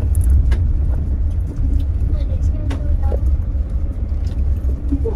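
A car drives along the road toward Ba Sĩ waterfall in Vietnam, with a steady low engine rumble and road noise throughout and people talking over it.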